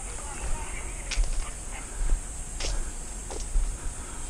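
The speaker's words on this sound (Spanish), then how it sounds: "¿qué perro anda por aquí?" A hunting dog on a wild boar hunt gives a few faint whimpers and short yips over steady outdoor background noise, with occasional voices nearby.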